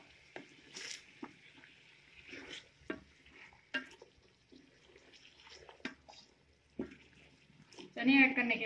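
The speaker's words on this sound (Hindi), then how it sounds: "चने ऐड करने के बाद इसको तकरीबन 1 मिनट तक मैं इसको मसाले के अंदर भूनूंगी" Boiled chickpeas are stirred into masala in a pan for Lahori anday chanay, with faint scraping stirs and a light sizzle, and a louder sizzling burst near the end.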